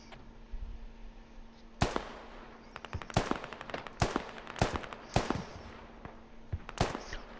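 Video game gunfire: a series of sharp, loud shots and short bursts fired in irregular bunches over several seconds, close and crisp against a quiet background hum.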